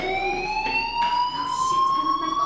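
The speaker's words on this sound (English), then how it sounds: "Hey, do you hear that fire alarm?" A fire alarm in the video game Life Is Strange wails with a rising electronic tone, loud and continuous, sweeping slowly upward over a faint background hum.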